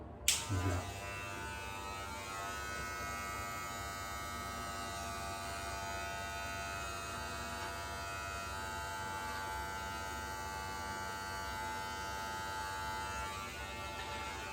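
Electric hair clippers with the half guard closed buzz steadily while cutting hair around the sides during a self-administered mid drop fade, starting with a click and then holding a close, continuous motor drone.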